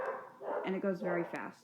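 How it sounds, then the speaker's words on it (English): Dogs barking and yipping in a home, several quick excited barks and whimpers close by, mixed in with someone talking over them. "sorry, I apologize for the dogs."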